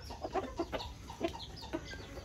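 Clucking and short calls from a hybrid jungle fowl rooster kept as a breeding bird, a string of close, moderately loud bursts in an uneven rhythm over faint background noise.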